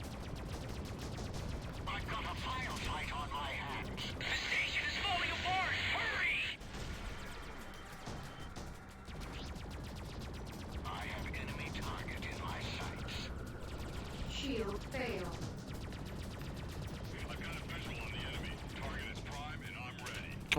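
Missile fire and weapon bursts during space combat in the game Freelancer, repeated mechanical firing sounds and whooshing launches over a continuous engine drone, fairly quiet, with someone speaking at times.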